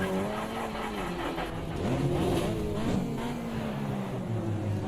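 A race car in a racing video game laps a track, its engine droning and shifting pitch steadily with faint tire noise, loud and continuous without talk.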